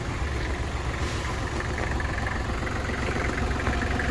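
A Kubota GL21 21 hp compact diesel tractor engine idles steadily and close, a constant low rumble with faint mechanical rattle and no change in pace.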